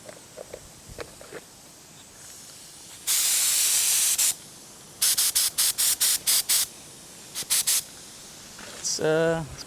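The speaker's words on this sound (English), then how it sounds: "Using my handy dandy Harbor Freight spray gun." A Harbor Freight paint spray gun spits short bursts of loud hiss: one long blast followed by a series of quick pulses and a few more near the end, with some faint knocks between and no talk.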